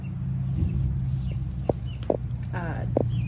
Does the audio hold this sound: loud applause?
no